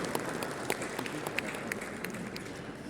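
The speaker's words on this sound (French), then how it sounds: "nous accueillions ensemble sur scène les membres du bureau sous vos applaudissements, s'il vous plaît" At the FANAF 2025 closing ceremony in Marrakech, Morocco, an audience applauds as board members come onto the stage. Dense crowd clapping carries on steadily, with crisp individual claps popping out above the general roar.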